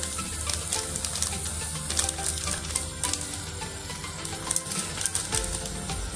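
Chili powder and pav bhaji masala frying in hot oil with tomato puree, a steady close sizzle with faint crackles and stirring scrapes throughout.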